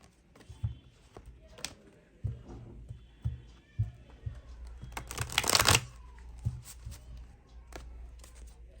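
A second deck of tarot cards shuffled by hand, with soft flicking riffles and taps, then a dense burst of rapid card riffling in the middle, close and fairly quiet.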